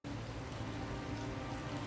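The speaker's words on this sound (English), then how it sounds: "Biblical rain pummels the city" Heavy rain pours steadily over a city in the video game Calvino Noir, a dense, continuous hiss at even loudness with no voices.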